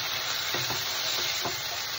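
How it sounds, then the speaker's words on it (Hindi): Onion with ginger-garlic paste sizzles steadily in a pan for pav bhaji, a constant frying hiss with a few soft scrapes of stirring, close and without talk. "थोड़ा सा फ्राई कर लेते हैं मसाले को।"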